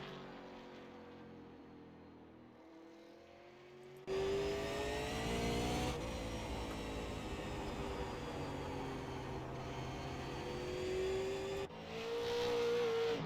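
A super late model race car in a sim racing game runs a lap, its engine droning steadily with rising and falling pitch as it revs through the gears, loud and continuous with sharp jumps in intensity.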